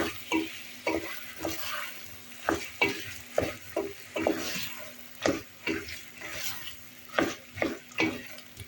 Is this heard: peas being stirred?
yes